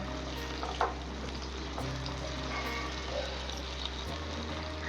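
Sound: stirring ivy gourd curry in pan over medium flame

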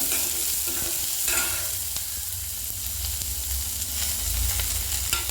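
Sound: onions sautéing and being stirred on slow flame

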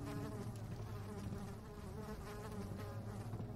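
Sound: flies buzzing, from the video game Amnesia: The Dark Descent

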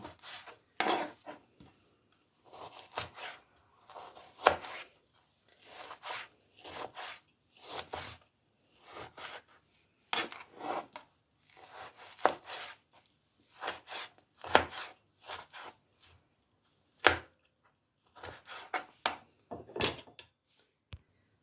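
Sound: knife chopping boneless chicken thigh into cubes

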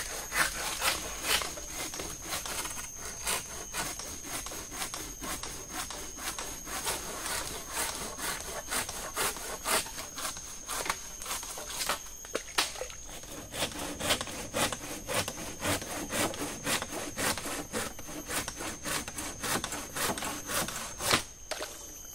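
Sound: hand saw cutting wood

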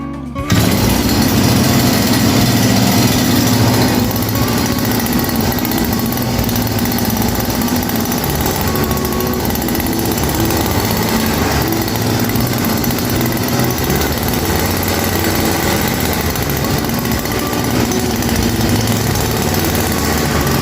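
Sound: Honda grass cutting machine kick-started and running

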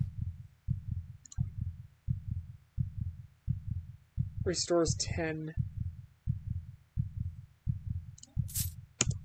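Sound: heartbeat sound effect in the video game Nightmare Simulator 2

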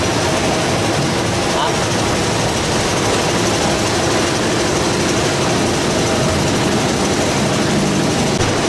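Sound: 180 HP boat engine idling

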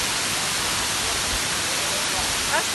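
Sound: waterfall in the Elbrus area

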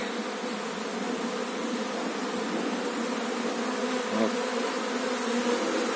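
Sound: Carpathian honey bees buzzing at an apiary

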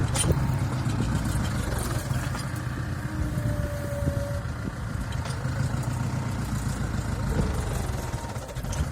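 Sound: tractor engine running while stuck in a field

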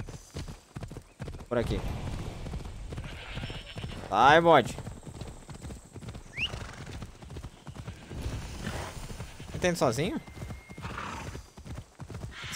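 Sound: horse galloping in video game Assassin's Creed Odyssey

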